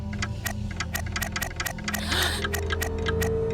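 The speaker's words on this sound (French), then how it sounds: "Regardez l'horloge." A clock ticks in a steady, quick rhythm, each tick crisp and close, over a low background hum.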